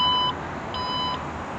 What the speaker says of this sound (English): I'm gonna beep at you to make sure nobody's in the way, and it'll close on down